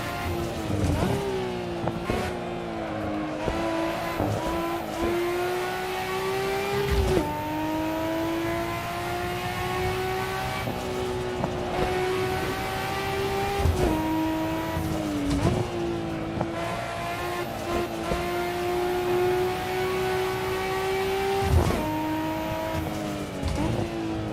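A Nissan RB26-engined car laps the Nordschleife in the Assetto Corsa racing game, the engine droning loud and steady with rising revs and sharp drops at gear changes through the lap, and no voices.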